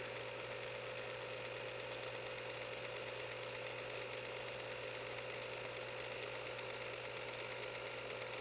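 A Visible V8 model engine idling with a steady, faint mechanical whir and fine ticking of small moving parts. The sound runs continuously with no voices.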